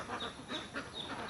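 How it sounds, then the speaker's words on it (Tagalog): A flock of ducks let out of their pen on a rural farm quack in a quick overlapping run of short calls, moderately close against a noisy outdoor background. "yung mga itik ni Boss Erwin, no?"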